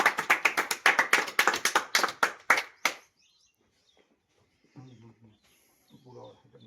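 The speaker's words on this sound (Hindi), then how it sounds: "तालियों के साथ आप लोग तालियों के साथ।" A village audience at an Awadhi comedy gathering claps in a burst of roughly a dozen sharp, close claps that stops abruptly, followed by quiet and some low talking.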